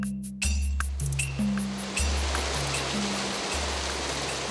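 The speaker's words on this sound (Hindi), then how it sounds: "चंद्रभागा नदी के किनारे" The Chandrabhaga river in the Pangi valley flowing: a steady broadband rush of moving water, moderately loud and continuous, with a low tonal drone pulsing beneath it.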